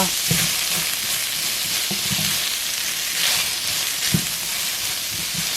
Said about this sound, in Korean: 소금과 올리브오일 넣어 섞으면서 살짝 볶아주세요